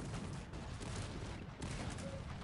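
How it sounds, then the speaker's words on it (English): Cannon fire in a battle in the video game Cossacks 3 comes through as a faint, continuous distant crackle of shots that blur into one low roar. "Oh, my cannons missed."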